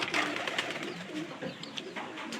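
Pigeons being released coo steadily and close by, a continuous soft burbling chorus with no voices over it.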